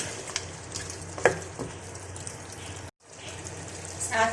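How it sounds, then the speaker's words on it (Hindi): Beef frying in a pan with ginger and garlic for a badami korma, sizzling steadily with occasional stirring scrapes and spatters, close and moderately loud, with a brief break partway through. "और अब हम गोश्त को थोड़ा सा भूनेंगे अदरक और लहसुन के साथ।"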